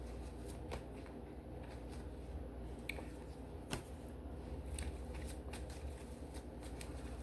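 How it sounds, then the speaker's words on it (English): Tarot and oracle cards shuffled and pulled from the deck in quiet soft riffling and sliding, broken by a few crisp slaps and taps as cards are drawn and laid down, close and fairly faint. "I'm gonna just start pulling cards, see what comes out."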